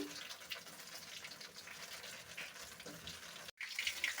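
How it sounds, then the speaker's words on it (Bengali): Soft, continuous sizzling and bubbling of bottle gourd leaf rice-paste fritters deep frying in hot oil, with a brief pause and a few crackles near the end. "দেখো ডুবো তেলে আমি এটা ভেজে নিচ্ছি।"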